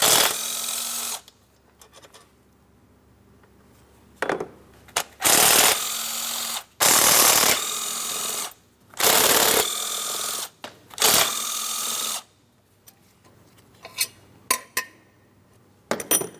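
A ratchet with a 13 mm socket removing intake plenum bolts on a 3.6L V6 Cadillac CTS, several loud bursts of rapid clicking ratcheting separated by pauses, with lighter metallic taps near the end, close by and without talking.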